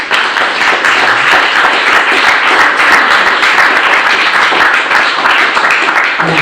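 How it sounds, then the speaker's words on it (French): An audience at a French public meeting applauds François, Loïc and Frédéric, a loud, dense burst of clapping that holds evenly throughout without a break. "je voulais qu'on applaudisse François,"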